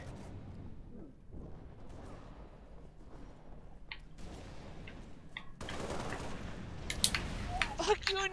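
Fuel rod gun fire and other weapons in Halo: The Master Chief Collection multiplayer, with scattered muffled blasts that build into denser, louder bursts near the end while voices talk over the action.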